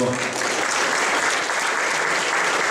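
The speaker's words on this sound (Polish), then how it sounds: "Wielkie brawo dla pani, która to" An audience at a comic anecdote show breaks into a dense, even round of clapping that fills the room, loud and sustained throughout with no distinct voices on top.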